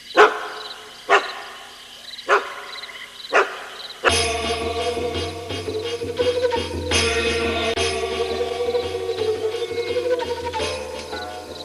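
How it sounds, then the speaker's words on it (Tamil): A dog barks in a Tamil TV serial scene, four sharp separate barks spaced about a second apart, then dramatic music swells and carries on at length. "நாய் சத்தம் கேக்குது"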